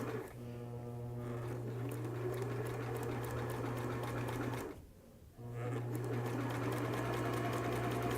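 A sewing machine runs steadily while stitching a three-eighths inch seam on a cloth cap, a close, even motor whir with a fast stitching buzz that pauses briefly midway and then resumes.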